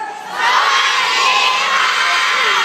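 A Thai audience of young voices shouts a loud, drawn-out greeting, "sawasdee krab," together, sustained for a couple of seconds.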